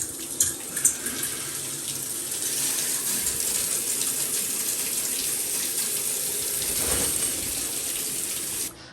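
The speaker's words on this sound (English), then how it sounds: "Shower time." Water from a home shower running in a steady, even hiss of spray for several seconds, close and constant, then cutting off abruptly at the end.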